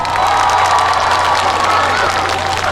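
Outdoor spring concert crowd in Ganghwa applauding and cheering for a trot singer on a rainy day, a loud dense wash of clapping and shouts that stays constant for the whole stretch, with a steady low hum beneath.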